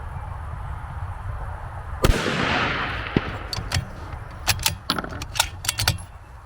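A Savage 110 rifle firing at steel targets, one sharp, loud shot followed by a decaying outdoor rumble, then a distant metallic ping of impact and a series of light clicks and clinks close by.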